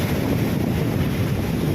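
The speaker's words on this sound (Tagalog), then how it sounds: "ang lakas ng hangin" Strong wind roars steadily across the microphone, a loud low rumble with no voices, outdoors by a rough sea during a typhoon.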